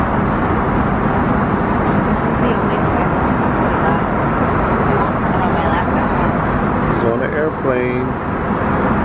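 A steady, loud roar of airplane cabin noise fills the whole stretch, with faint voices murmuring underneath.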